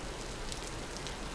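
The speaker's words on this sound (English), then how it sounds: "It's a shame that it's raining." Rain falls in the Vintage Story game world, a steady dense hiss of drops on surfaces with faint pattering detail, continuous and even throughout with no talking.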